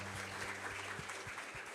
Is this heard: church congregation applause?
yes